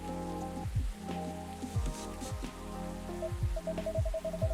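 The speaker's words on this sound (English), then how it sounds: "A place to be safe while the rain falls outside." Steady rain falls outside a coffee shop, a continuous soft patter under gentle piano notes and low background music.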